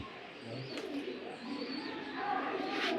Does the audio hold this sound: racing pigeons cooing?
yes